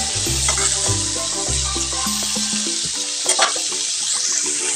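Pointed gourd (potol) fries in hot oil in a kadai with a steady, close sizzle and occasional stirring clatter, accompanied by a low tonal hum and no voices.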